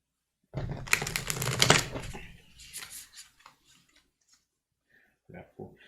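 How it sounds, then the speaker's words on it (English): A tarot deck is riffle-shuffled close by: a dense burst of card flutter and snapping lasts about a second and a half, followed by quieter taps as the cards are squared and a few soft final knocks. "So that was the 3rd shuffle."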